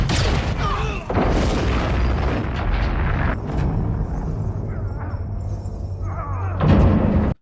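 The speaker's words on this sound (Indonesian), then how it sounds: "mobilnya mengenai ranjau hingga meledak" A car strikes a landmine and explodes, a loud sustained rumbling blast filling the clip with a further heavy burst near the end; no talking.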